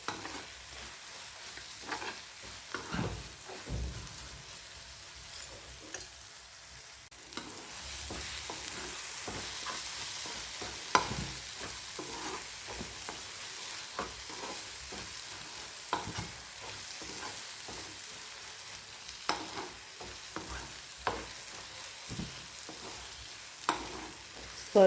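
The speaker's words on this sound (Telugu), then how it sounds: "మంచిగా ఇది ఆయిల్లో ఫ్రై అవ్వాలి." Fish pieces frying in hot oil for a spicy fish piddupu, a constant low sizzle broken by frequent scraping stirs of a spatula against the pan.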